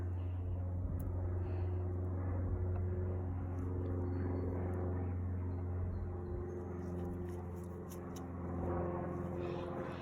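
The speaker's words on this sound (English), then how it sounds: "Plane to pass." A propeller airplane drones overhead at an outdoor archery range, a steady low engine rumble that swells slightly and lingers throughout, no talk.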